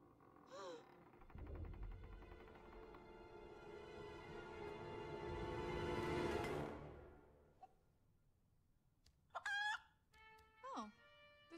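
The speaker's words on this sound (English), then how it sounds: "Oh, there's a chicken." A cartoon chicken squawks and clucks in short bursts, joined by a long rising crowing-like cry that builds loudly and then fades, followed by a few sharp, high clucks near the end.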